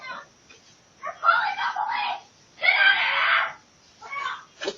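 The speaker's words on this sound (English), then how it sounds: "the girl saw it on the camera and started screaming at the top of her lungs" A girl screams at the top of her lungs, captured on trail camera footage: two long, loud, strained bursts of screaming separated by short pauses, followed by a shorter, quieter cry near the end.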